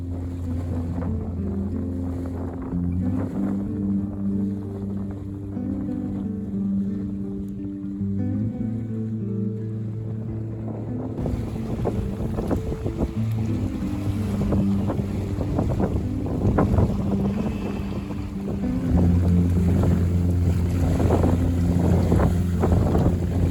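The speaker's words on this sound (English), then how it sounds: "the wind has picked up a little bit" Wind blows over a Precision 18 sailboat at night, a steady rushing wash mixed with water sounds and low, sustained humming tones. It grows brighter and more turbulent partway through, with no voices.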